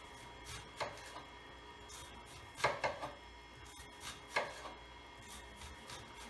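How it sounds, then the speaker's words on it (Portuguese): A sharp knife slices through a layered onion on a board, giving a few soft, scattered cutting taps over quiet background noise. "Na hora de segurar a cebola e fazer o corte, é muito importante que a gente corte ela com segurança"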